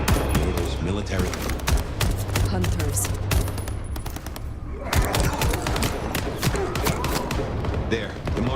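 Rapid bursts of gunfire from hunters in Vampire: The Masquerade Bloodlines 2, dense volleys with thuds and booms running throughout under spoken dialogue and a brief quieter gap midway.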